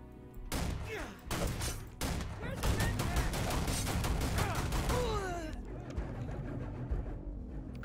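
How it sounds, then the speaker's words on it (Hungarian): Gunfire in the Starfield video game: rapid bursts of shots rattle across the clip, loud and busy over game music and effects, then thin out toward the end. "laza lövöldözés."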